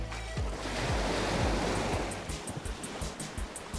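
Sea waves wash steadily onto a beach during a toy doll play scene, a continuous broad surf roar with low rolling surges, fairly loud and without talk.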